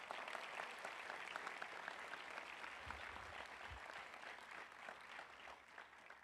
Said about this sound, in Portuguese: Dá um aplauso para Jesus.